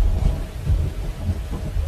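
Thunder rumbles low and heavy beneath steady rain in a thunderstorm, a continuous loud roll with no voices.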